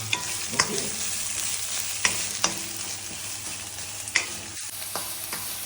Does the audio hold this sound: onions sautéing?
yes